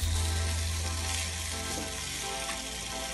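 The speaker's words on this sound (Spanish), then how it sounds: "esta cebollita la vamos a poner ahorita a fuego lento y vamos a dejar que se cocine y que se dore" Onion cooking in a pan over low heat, a continuous even sizzle and frying hiss that holds steady throughout with no talk.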